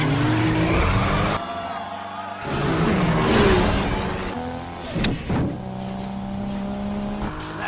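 Street race cars accelerating at the start of a night race in the film 2 Fast 2 Furious, engines revving and roaring loudly with tire squeals and a dramatic soundtrack underneath.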